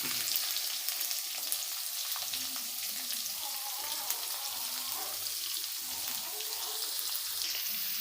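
Chopped large onions sizzle and fry steadily in hot oil in a pan, a continuous crackling hiss for a fenugreek curry, with no talking.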